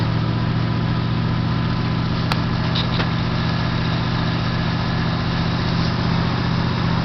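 A 1978 Mercury Cougar Brougham idles after a cold start, a steady, loud low rumble running unbroken throughout, with a couple of faint brief clicks early on.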